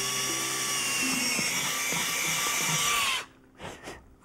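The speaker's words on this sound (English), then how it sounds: "I've just drilled this little hole that I'm hoping will stop the board from splitting" A small hole is drilled into a wooden bench board with a power drill, its steady high-pitched whine running loud and close for about three seconds before cutting off, followed by a couple of faint short spins.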